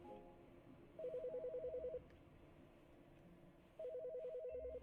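Electronic telephone ring from The Stanley Parable, two distinct bursts about a second long separated by a pause, over a quiet low ambient hum.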